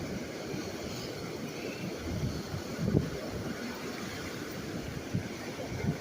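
Steady low rumbling wind buffeting the microphone on the shore of Lake Superior, with gusts rising and falling throughout.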